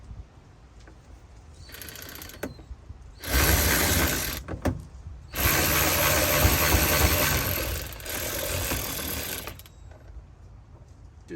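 A ratchet works loose the Phillips head screw holding a vehicle's sun visor during headliner removal, giving several loud mechanical whirring, clicking bursts separated by short pauses.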